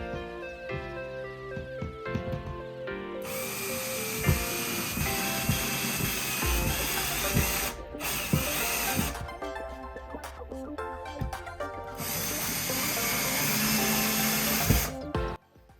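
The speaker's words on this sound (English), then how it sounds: "We've switched back to the driver and we're going to put our screws in" A power screwdriver driving screws into drywall anchors while mounting a shelf: several bursts of whining motor with ratcheting clicks, separated by short pauses and handling knocks, loud and close.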